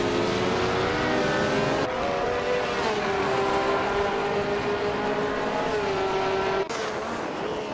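Lotus 49 race cars in a racing video game, a loud, steady engine drone with rising and falling pitch as the cars run on, and a sharp cut in the sound near the end, with no talk.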